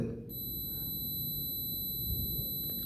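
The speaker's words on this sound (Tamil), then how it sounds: "லெஃப்ட் சைடில் வரும்போது வைக்கும்போது உங்களுக்கு மல்டிமீட்டரில் பீப் சவுண்டு வருது" A multimeter gives a continuous, steady high-pitched continuity tone while its probe touches a phone battery terminal. The tone begins just after the start and holds unbroken to the end over low background hum, with no talking.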